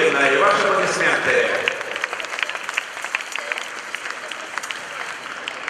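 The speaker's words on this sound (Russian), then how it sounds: "и ваши аплодисменты" An audience at an amateur standard ballroom dance final applauds, loud dense clapping at first that thins into lighter scattered claps, with a voice over the crowd.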